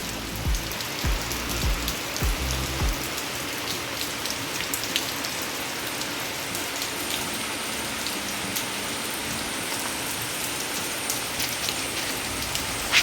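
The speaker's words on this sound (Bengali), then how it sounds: "এখন দেখো একটু বৃষ্টি পড়ছে আমাদের দিকে বাইরে" Light rain falls outdoors in a steady, close patter of drops on surfaces, with a few heavier taps near the start and no voices.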